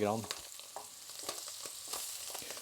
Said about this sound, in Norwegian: Nå er den snart eh, ferdig stekt, så det skal ikke så veldig mye til.